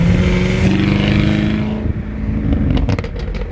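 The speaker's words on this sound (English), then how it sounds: "Dual sport exhaust sounds phenomenal as well." A 2019 Chevrolet Camaro 1LE with a dual sport exhaust rumbles loud and close, then the tone drops and sharp crackles and pops sound as the revs fall.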